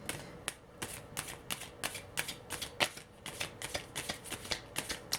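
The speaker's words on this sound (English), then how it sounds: "I'm going to shuffle one more time" Tarot cards shuffled by hand in a quick, even run of crisp riffling bursts, close and clear, with no talk over them.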